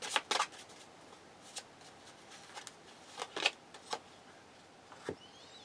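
Moonology oracle cards being shuffled by hand in quiet short bursts of soft riffling and slapping, spaced irregularly, close and fairly faint.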